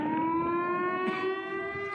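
A siren wails steadily outdoors during Ramadan, a sustained tonal drone with slowly rising pitch, moderately loud over faint background noise.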